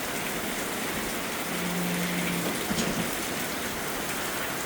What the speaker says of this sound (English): Glad it's raining. We need the rain.